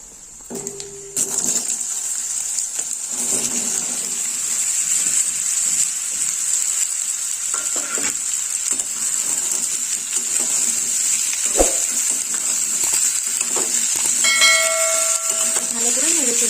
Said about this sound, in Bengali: এবার আমি সবজিগুলো ঢেলে দেবো।